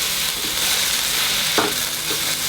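Impossible beef plant-based ground meat sizzling and frying in an Instant Pot as it is stirred and broken apart, with a steady close hiss and a brief scrape of the utensil.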